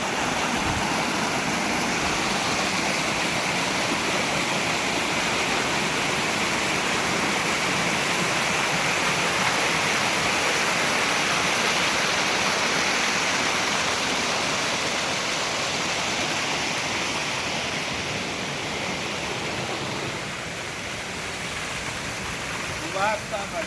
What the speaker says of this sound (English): Literally walking up this little waterfall here.